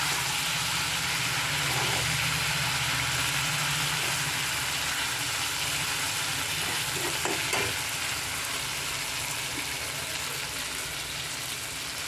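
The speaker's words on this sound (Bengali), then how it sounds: "এবারে দিয়ে দিচ্ছি ভেজে রাখা মাছ।" Previously fried fish dropped into a hot pan, with a steady, loud oil sizzle running throughout and a few stirring clinks, no talking.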